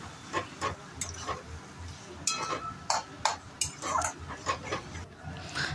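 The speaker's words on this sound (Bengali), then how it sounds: "এটা দিয়ে ভালো করে মশলাটা আবার একটু নেড়ে চেড়ে নিচ্ছি।" A spatula stirs fried masala with a little Kashmiri chilli in a pan, making quiet, irregular scraping and ticking clicks against the metal, each scrape short and close.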